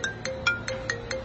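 A mobile phone ringtone plays a quick repeating electronic chime, short bright tones pulsing about every quarter second, moderately loud with no talking.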